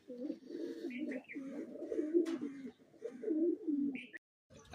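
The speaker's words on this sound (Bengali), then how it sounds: "পায়রা নামছে, এই নামছে এক এক করে" Pigeons released over a village home near trees and netting coo in soft, rolling phrases, several calls following one another at close range before a brief silence.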